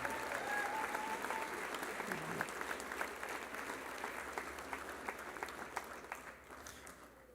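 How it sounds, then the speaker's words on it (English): Steady applause from a school honors ceremony audience for sophomore honors students, a sustained wash of clapping from a crowd filling a hall, with no voices over it. "please give one more round of applause for our sophomore honors students"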